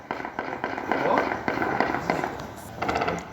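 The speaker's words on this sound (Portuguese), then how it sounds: "Moradores gravaram o barulho do tiroteio entre os bairros Nova Rosa da Penha 2 e Nova Esperança" Rapid bursts of distant popping shots crackle in irregular volleys during a night-time shootout between neighbourhoods in Cariacica, Brazil, with a voice speaking underneath the repeated reports.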